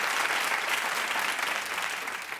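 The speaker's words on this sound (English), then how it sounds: "Clap if you saw that." A studio audience breaks into a continuous wash of clapping that holds steady and then tapers off slightly toward the end.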